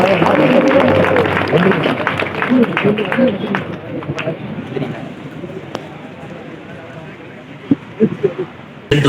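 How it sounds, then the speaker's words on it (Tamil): Audience applause at a Tamil event welcoming special guests, dense clapping at the start that thins into scattered claps while a voice talks over it. "அனைத்து சிறப்பு விருந்தினர்களையும் கரகோஷத்திலும் எழுதி வரவேற்போம்"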